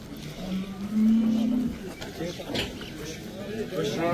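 Dairy cattle moo at an outdoor livestock market in Nookat on a damp, overcast day: one drawn-out low moo rises above steady crowd chatter and people talking nearby.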